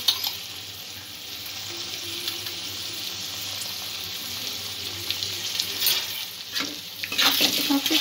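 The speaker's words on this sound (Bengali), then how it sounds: "মশলা থেকে তেল ছাড়া শুরু হয়েছে, এই অবস্থায় 2 চামচ টক দই দিয়ে দেব" Sour yogurt goes into spices frying in oil, setting off a loud hissing sizzle that swells and crackles as the mixture is stirred, with scraping spoon sounds and no speech.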